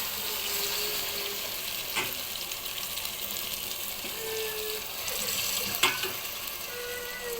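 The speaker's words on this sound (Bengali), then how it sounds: "গরম পানিটা দিয়ে দিলাম।" Hot water pours into a pan of browned beef, producing a steady rushing hiss mixed with sizzling and bubbling, with a few light knocks against the pan.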